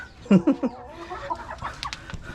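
Chickens cluck in a backyard coop, a few loud close calls early on, then softer scattered clucks and rustling from the flock.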